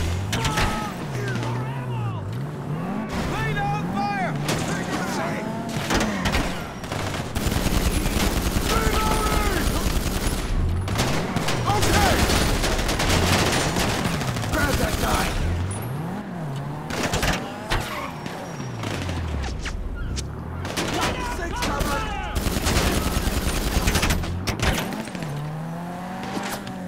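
Gunfire in GTA V Online, with rapid overlapping shots and bursts running steadily through a busy, loud game mix alongside engine and vehicle noise, while voices talk over it.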